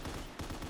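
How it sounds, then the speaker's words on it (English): Exploding bullets fired in BO3 Custom Zombies, a short burst of rapid, loud gunfire crackling in quick succession with a brief break midway. "It looks like exploding bullets."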